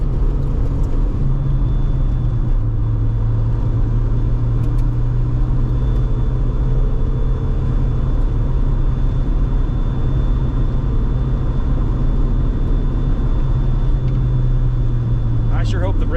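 A 1990 Ford Probe GT drives steadily along a road, a constant low engine and tire rumble heard from inside the cabin, unchanging throughout.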